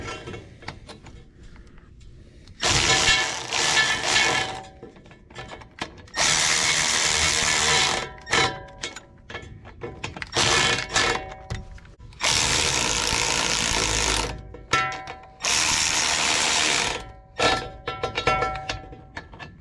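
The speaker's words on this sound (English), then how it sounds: "do not run your bolts in with a cordless tool like I do" Cordless power tool driving bolts into a ball joint tool used as a universal joint press, running in four loud bursts of whirring and ratcheting with short pauses between them and no talk.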